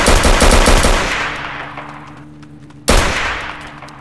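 Rapid machine-gun-style bursts from a GTA roleplay server shootout, a loud close volley that fades into ringing decay, then another sharp shot near the end.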